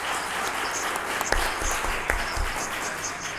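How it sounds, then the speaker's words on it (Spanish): An audience at an event gives steady applause that holds at an even level throughout, with a few sharper individual claps standing out. "por favor, un fortísimo aplauso."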